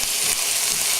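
Onions coated in chili powder and spices sautéing in a pan, a bright, continuous sizzle heard up close and fairly loud for the whole moment, with no one talking.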